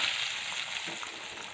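Hot garlic tempering in oil sizzles and crackles as it is poured over a thin fenugreek leaf curry, a bright, steady close-up fizz with a brief bubbling splash partway through.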